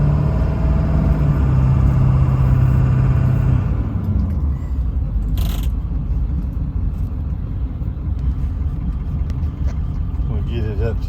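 A Ford F350 4x4 crew cab turbo diesel with a veterinarian box accelerates on a bypass road, its engine drone easing into a steady loud road and tyre rumble throughout.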